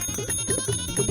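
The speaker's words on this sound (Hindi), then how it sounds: "आप ही अभी घंटी मत बजाइए" A hand bell rings repeatedly in a loose, uneven rhythm, with bright metallic tones sounding close and fairly loud over a busy indoor household background.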